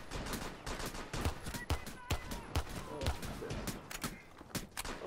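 A volley of gunfire from a Civil War-style firing line in Rainbow Six Siege: repeated sharp, loud shots crack in irregular succession over about five seconds, with overlapping bursts and a constant busy game backdrop beneath.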